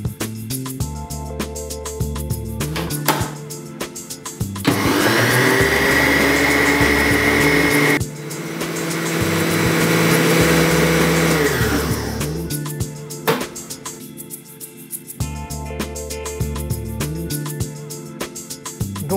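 A food processor blends avocado mousse in two loud bursts, each a strained motor whir lasting several seconds, separated by a short stop, with quieter handling sounds before and after.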